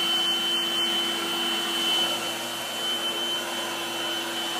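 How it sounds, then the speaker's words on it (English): A household vacuum cleaner runs indoors, giving a steady, moderately loud motor whine with a constant hum that barely changes across the whole stretch, with no talking. "I'm gonna vacuum."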